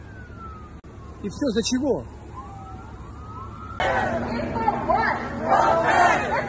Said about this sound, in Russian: Здесь, я без привлечения могу сказать, может быть, 5 десятков полицейских машин как минимум.